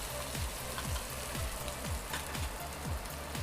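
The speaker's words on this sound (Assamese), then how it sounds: "তেল গৰম হোৱাৰ পিছত মই ইয়াত ভাজি থোৱা মাংসখিনি দি দিছোঁ আৰু খুব ধুনীয়াকৈ এইখিনি লৰাই দিম" Pre-cooked chicken stirred in hot oil for chicken pickle, a steady crackling sizzle with repeated scraping strokes of a spoon at a regular rhythm, close and continuous, no voices.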